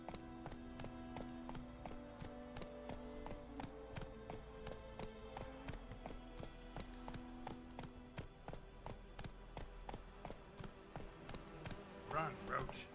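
Roach the horse gallops in The Witcher 3, hooves clip-clopping in a fast, steady rhythm under game music, fairly quiet throughout with a brief louder burst near the end.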